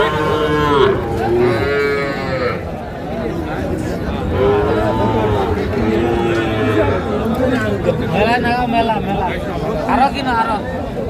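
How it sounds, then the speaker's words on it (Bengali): Several young bulls and heifer calves, about five months old, moo loudly and repeatedly nearby at a cattle market, long drawn-out calls overlapping with a crowd of people talking in the background. "বেশ সুন্দর গরুগুলো"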